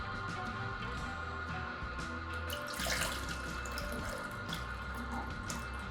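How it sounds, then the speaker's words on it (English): Juice pours steadily out of the smart cap of a Kuvings EVO A20 juicer into a container below, a continuous close splashing trickle with slight gurgles over a machine hum, and no speech. "Let's open the smart cap and drain some of that juice."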